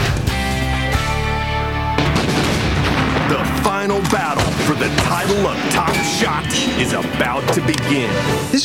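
Marksmen firing rifles and grenade launchers in a televised shooting competition, loud rapid gunshots and booms piling up densely, mixed with music and talk throughout.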